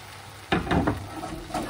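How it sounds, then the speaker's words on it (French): A semolina galette set back into a hot pan gives a sudden sizzle that continues as a steady, close frying hiss with small crackles, and no talking. "Donc je remets ma galette dans la poêle."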